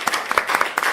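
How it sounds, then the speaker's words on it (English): A short burst of audience clapping at the end of a live podcast recording at a comic convention, several hands close by, brief and scattered. "You can clap now."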